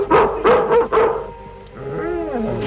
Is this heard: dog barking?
yes